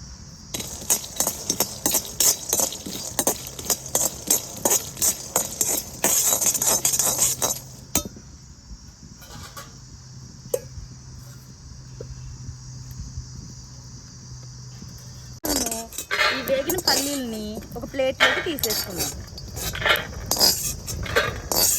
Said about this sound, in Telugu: ఇది కొంచెం హీట్ ఎక్కేదాకా ఉంచుకొని ఇప్పుడు మనము పల్లీలు వేసుకుందాం